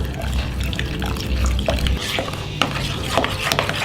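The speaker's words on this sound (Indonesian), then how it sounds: "masukin air dari tengah sambil diaduk" Water poured into a banana-fritter batter while it is stirred gives wet slurping swirls and splashy liquid sounds, with a few light clinks against the bowl, close and fairly loud.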